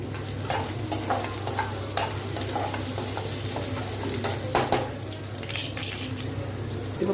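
Cashews and chana dal roast in a pan with a steady low sizzle, scattered stirring scrapes and clicks over a constant background hum.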